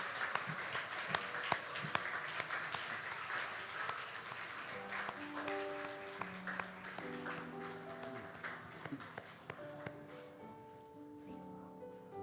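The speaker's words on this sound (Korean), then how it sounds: "우리 선생님들 나오실 때 큰 박수로 함께 해주시면 감사하겠습니다." Church congregation clapping as teachers come forward, a steady wash of applause that thins out over time while sustained organ or keyboard chords rise beneath it, fairly faint and distant.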